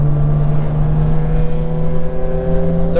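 Manual car engine pulling on a mountain road: a steady, close, droning hum with a firm low tone that holds throughout and edges slightly upward at the very end, with no talking.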